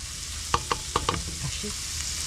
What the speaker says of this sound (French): Je vais y mettre mes 3 gousses d'ail